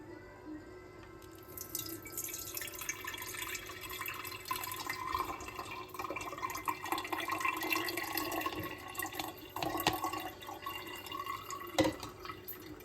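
A litre of water poured into a lemon drink mixture makes a steady, close liquid splashing and trickling, with a couple of sharper drips and clinks near the end.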